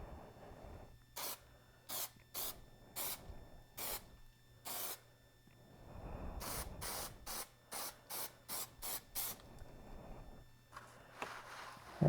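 Repeated short bursts from an aerosol can spraying Plasti Dip rubber coating onto an ATEM Mini Pro, the hissing sprays coming in a quick rhythmic series, close and fairly loud over a low steady hum, with some handling noise between bursts.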